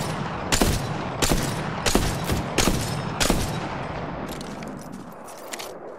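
Gunfire in the video game Apex Legends: several sharp, loud bursts of automatic shots at roughly even intervals, then trailing off into fainter, scattered rattling shots.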